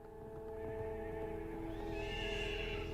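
A horse neighs in a long, loud whinny that holds steady with clear harmonic tones and rises toward the end, heard close and alone with no talk.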